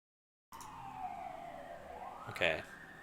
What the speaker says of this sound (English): Sirens are taking a really long time to get farther away